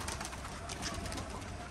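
Pigeons or doves coo steadily and close by outdoors on a hot, sunny day, a soft throaty coo running through the whole short stretch with no talk.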